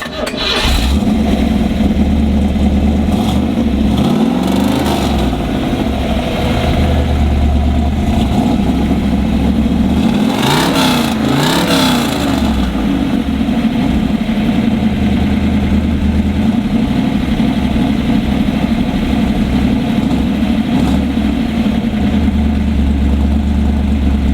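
A 1969 Chevy Yenko Super Nova 427 V8 idles with a deep, lumpy rumble, revving up sharply a couple of times before settling back, loud and close throughout.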